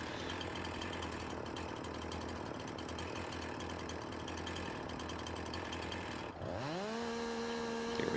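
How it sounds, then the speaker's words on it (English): Chainsaw in Farming Simulator 19 cutting through a tree during a logging job, a loud, steady buzzing whine for about six seconds, then a brief dip as the engine drops and revs back up to a high sustained tone. "Maybe I'm just not holding the chainsaw straight."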